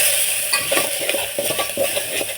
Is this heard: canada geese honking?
no